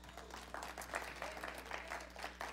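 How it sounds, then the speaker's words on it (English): A church congregation gives a hand clap of praise during a sermon, producing faint, uneven clapping with a few stronger bursts over a steady low hum. "Give God a hand clap of praise."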